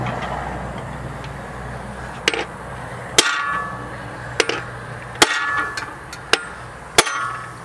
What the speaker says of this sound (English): I'm gonna try a bigger hammer